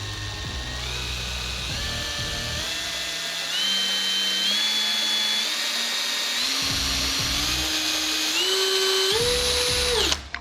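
A Festool TXS12 electronic drill runs for about ten seconds, its whine rising in steps as the speed climbs, then cuts off abruptly. Nearby and loud, with no talk.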